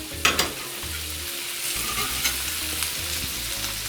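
Smash burger patties and bacon sizzle loudly in bacon grease on a hot grill, a steady dense crackle with a couple of sharp clicks near the start and no talking.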